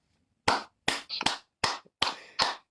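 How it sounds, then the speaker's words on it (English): Six sharp, close hand claps in an uneven rhythm, each a crisp isolated burst against near silence, the last few spaced closer together. "I'll clap for you."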